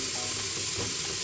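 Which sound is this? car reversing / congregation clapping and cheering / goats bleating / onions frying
onions frying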